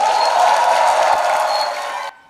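A church congregation claps and cheers to welcome a missionary to the front for a special lecture: dense, steady crowd applause with cheers filling the hall for about two seconds, then cutting off abruptly.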